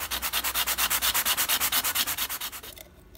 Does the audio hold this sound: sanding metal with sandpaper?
yes